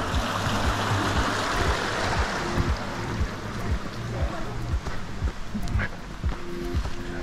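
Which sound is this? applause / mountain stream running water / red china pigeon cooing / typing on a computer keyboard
mountain stream running water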